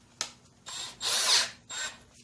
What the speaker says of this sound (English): Chuck it up in the drill.